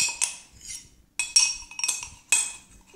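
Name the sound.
spoon stirring baking powder in a glass container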